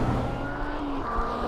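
Supercharged Ariel Atom 3R engine intake under light throttle, heard from right behind the driver's ear: a steady, close, loud whine and drone that holds level throughout without a pause.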